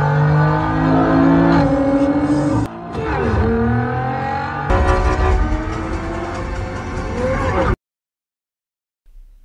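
Race cars speed toward the finish line in a film scene, loud engines revving and roaring continuously with tire noise and shifting pitch, cutting off abruptly into silence near the end.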